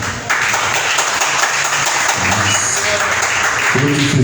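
Church congregation clapping in a steady, full burst of applause that fills the room, with voices and tonal sounds woven underneath.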